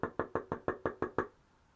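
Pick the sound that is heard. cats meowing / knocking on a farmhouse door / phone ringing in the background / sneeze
knocking on a farmhouse door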